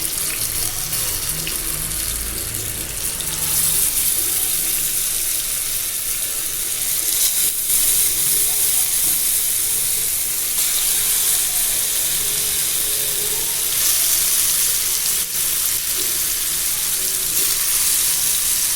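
Fish pieces frying for Tamil-style meen varuval in hot oil, a steady loud, dense sizzle and crackle that continues unbroken throughout, close by with no talk.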